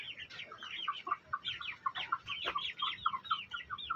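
Four-day-old shamo chicks peep steadily in a busy cluster of high, close chirps with no pauses.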